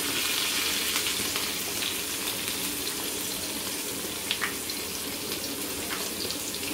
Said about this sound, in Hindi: आधी चम्मच राई करी हमने डाली है इसमें, थोड़ा चला देंगे जी।